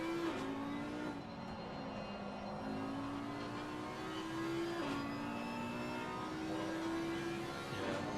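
GT3 race car engines screaming down the Mistral straight at Paul Ricard in Assetto Corsa Competizione, a sustained engine whine that steps up through several gear changes at moderate loudness.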